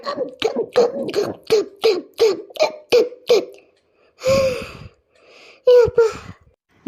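Close, loud panting: a quick regular train of voiced, gasping breaths, then a longer heavy exhale and a few more ragged breaths.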